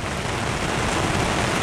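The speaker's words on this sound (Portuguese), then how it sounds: "chuvarada agora aqui" Heavy rain pouring down during autumn at a surf beach, a dense, steady hiss of falling water with no pauses, close and even throughout.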